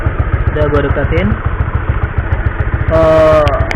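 A Honda CB150R motorcycle engine idles with a rapid, even putter, while someone talks over it.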